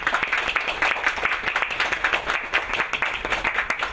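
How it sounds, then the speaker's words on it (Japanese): A theatre audience applauds to welcome a film director onto the stage at a 2016 screening, with dense, steady clapping that carries on throughout. "皆さん拍手でお迎えください。"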